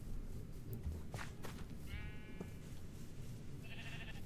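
Minecraft sheep bleating in a survival world, two short wavering bleats spaced apart over a quiet background hum, fairly faint, no talking.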